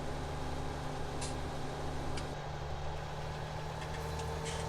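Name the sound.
combine harvester engine in Farming Simulator 17 video game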